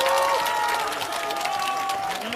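Applause from a crowd at a Korean political campaign rally in Pyeongtaek, a dense continuous clapping, with a voice talking over it.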